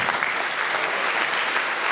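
Dense, even crowd applause in a theatre hall during a Romanian comedy show, a continuous loud wash of many hands clapping with no breaks.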